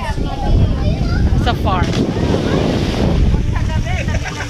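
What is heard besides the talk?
strong wind on a farm at night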